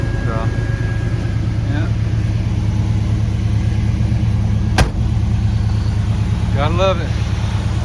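A 1969 Dodge Super Bee with a 440 Six Pack V8 idles with a steady, deep rumble throughout, while someone talks briefly over it and a sharp click lands near the middle.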